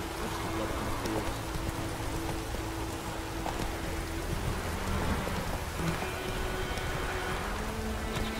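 Steady rain falling in The Witcher 3: Wild Hunt, a constant hiss of drops on surfaces with low droning tones and occasional faint rumbles beneath.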